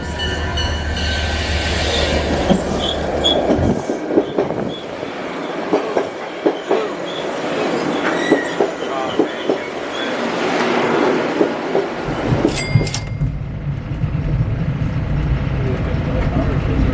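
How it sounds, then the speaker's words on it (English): A train running along the Hudson River rumbles steadily with rhythmic clickety-clack from the wheels. Metallic squeals break through near the end, heard up close as if from on board. "Our train is making its way around the corner."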